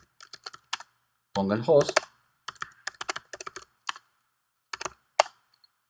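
Quick bursts of typing on a computer keyboard while entering MySQL connection details, crisp close key taps in irregular runs, with a voice speaking Spanish over part of it.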